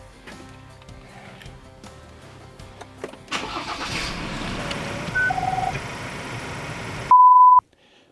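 A car engine cranks and starts, then runs at a steady idle before cutting off, followed by a loud sustained electronic beep at the end, with no talk.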